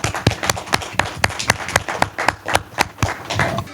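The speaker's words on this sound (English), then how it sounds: "Can we give these guys a round of applause," A small audience at a fan convention panel claps for the guests, a sparse, uneven scattering of individual hand claps sounding close and distinct rather than a dense roar.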